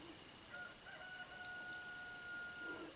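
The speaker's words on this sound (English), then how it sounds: "Yep, the rooster's up this morning." A rooster crows in the morning, a thin drawn-out call heard from a distance over soft background noise, rising and holding for about two seconds.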